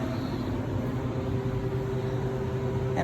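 A steady, loud hiss of rushing air from a Harvest Right freeze dryer's valve releasing pressure, with a constant low hum underneath, unbroken for the whole three seconds.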